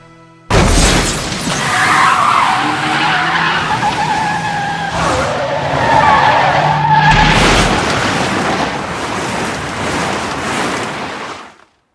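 A Toyota AE86 racing in the Initial D anime suffers an engine blow, heard as a loud sustained roar of skidding, screeching tires and harsh mechanical noise that cuts off abruptly at the end.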